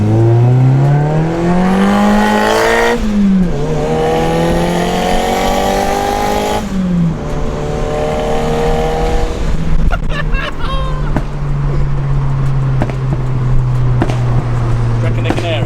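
Turbocharged Mazda MX5 accelerating hard, its engine note rising through the gears in loud sweeping harmonics with brief drops at shifts, heard from close by with people talking over it.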